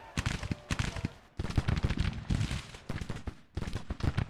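Civil War troops firing muskets in the Grand Tactician video game: rapid, crackling volleys of overlapping shots in repeated bursts, separated by brief pauses, dense and fairly distant.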